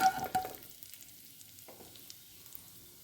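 Cumin seeds hitting hot oil in a pan while cooking Bengali-style potato dum: a brief burst of crackle and sizzle at the start that quickly fades to a quiet, steady low hiss.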